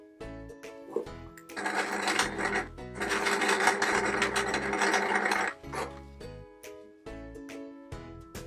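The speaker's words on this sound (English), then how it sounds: "I'm now going to stitch on this triangle" A sewing machine stitches a triangle onto the centre of a Peter Rabbit patchwork quilt patch, whirring in steady bursts with brief pauses and start-stop clicks between runs, close and fairly loud.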